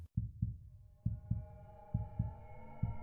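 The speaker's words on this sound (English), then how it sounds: "his heart pounding against his ribs" A pounding heartbeat sound effect thumps in steady double beats, deep and close, with a faint rising tonal hum building behind it.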